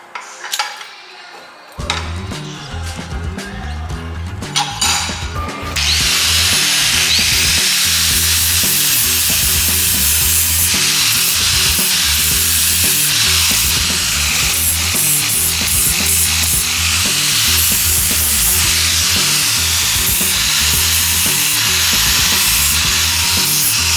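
Metal fabrication on a bobber motorcycle foot peg mount: after a few quiet clicks and taps, a loud, continuous harsh drilling noise runs steadily close by for most of the stretch, with no voices.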